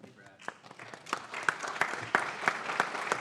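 Applause from a conference audience at a climate event panel: scattered claps at first, then a rhythmic run of sharper, evenly spaced claps over a murmuring room, fairly quiet and distant.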